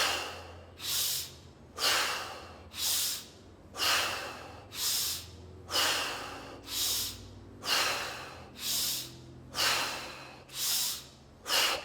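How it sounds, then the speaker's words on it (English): A group breathes in unison during a guided exercise, strong rushing breaths rising and falling in a slow, regular cycle about every two seconds, a dozen or so in a row with no talking. "Again, synchronized breathing, 15 times. Ready? Inhale up, exhale down."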